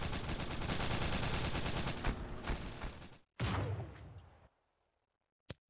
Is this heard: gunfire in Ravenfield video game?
yes